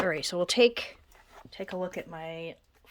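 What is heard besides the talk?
No everyday noise stands out behind the speech.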